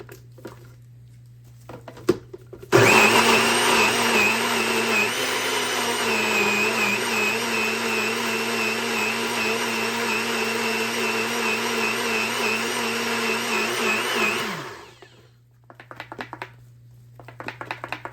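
A blender blending cilantro whirs loudly and steadily for about twelve seconds, then cuts off, with faint clatter before and after.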